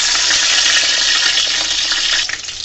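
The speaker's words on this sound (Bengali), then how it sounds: "এখানে আমি তেলটা বসিয়ে দিয়েছি, দিয়ে দিচ্ছি রসুন।" Garlic hisses and crackles in hot oil in a pan, a bright steady sizzle up close with no talking, easing slightly at the very end.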